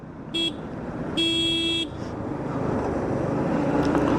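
Car horns honk on a hilly road in Kerala near Vattavada, two sharp blasts standing out over a steady rumble of passing traffic and engine noise.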